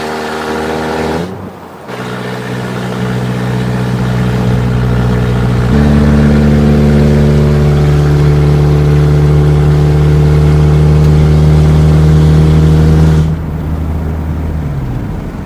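A Mazda project car engine revs and accelerates on its first real test drive, heard loud and close, with a rising steady drone through the shifts and a drop near the end.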